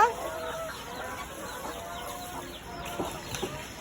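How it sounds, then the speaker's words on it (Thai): A backyard flock of ducks and chickens being fed banana stalk makes steady, moderately close clucking and soft squawks. A few louder calls come near the end. "นี่คือประชากรเป็ดไก่ของเรานะคะ"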